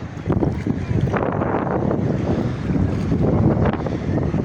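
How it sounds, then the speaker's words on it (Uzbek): Strong wind at a beach resort roars and buffets the microphone continuously, a loud broadband rush with gusts rising and falling throughout. "Shamol."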